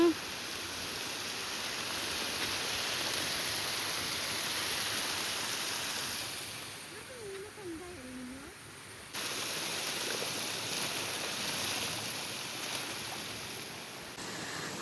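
A small forest stream flows gently, giving a soft, steady rushing wash that drops briefly while a voice speaks over it, then returns.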